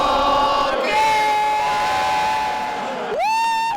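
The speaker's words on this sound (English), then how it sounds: "I think we're supposed to cheer." A large crowd at a Cubs ball game shouts and cheers in a dense, continuous roar, with a few louder whooping voices rising above it.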